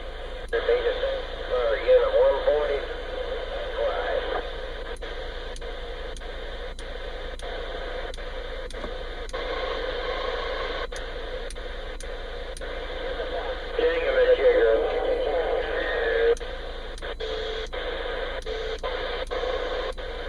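A President McKinley SSB CB radio tuned across AM stations gives constant static hiss with faint voices, regular clicks as channels change, and someone talking over it.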